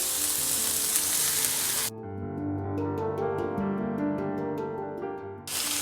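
Onion, garlic, ginger, green chili and tomato sautéing in oil for village-style chicken curry: loud continuous sizzling that breaks off into a brief pause with tonal ringing and clinks, then the frying hiss returns.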